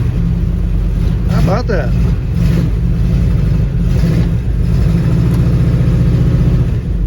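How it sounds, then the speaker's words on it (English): A 1959 Ford wagon engine with dual exhaust idles in a steady, close low rumble, while someone talks over it. "Look at that, it's even idling with no choke."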